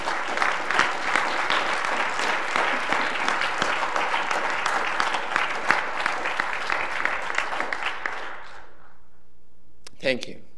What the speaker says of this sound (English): Let's have a round of applause for James.